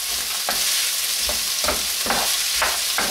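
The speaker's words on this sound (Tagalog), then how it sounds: "And haluin natin ulit maigi." Frozen mixed vegetables, half-cooked potato and chicken are stirred in a sizzling pan for an empanada filling, with a spoon scraping in repeated strokes about every half second over a continuous close fry.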